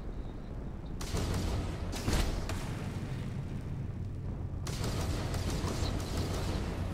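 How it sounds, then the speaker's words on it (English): Sustained space-combat weapon fire in the game Starfield, a dense rattling barrage with bursts and explosive thuds that drops off briefly and then resumes, loud and continuous with no talking. "Stop shooting at us."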